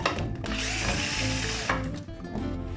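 A power screwdriver whirs steadily while driving screws into a shelf, with a sustained motor whine broken by a brief pause and a restart.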